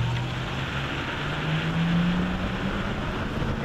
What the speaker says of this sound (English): Hear the four barrels kicking in.